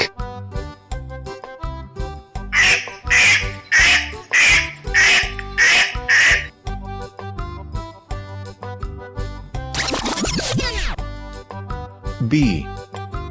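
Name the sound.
duck quacking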